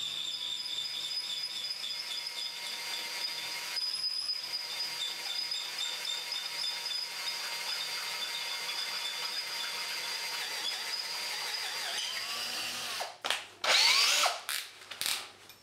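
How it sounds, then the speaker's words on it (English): A power drill boring through stainless steel whirs steadily for a long stretch at a controlled low speed, then a few louder, rougher bursts near the end as the bit bites. "I'm not going to allow the drill to go too fast, because then it will burn"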